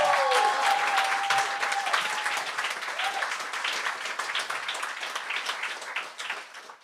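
A studio audience at a comedy talent show applauds a performer, loud and dense clapping that starts strong and slowly thins out, with a few cheers at the start.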